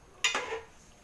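A lid goes onto a pot of simmering fish curry on the stove: one quiet, short metallic clank followed by a second softer knock, then a brief fading ring in a still kitchen.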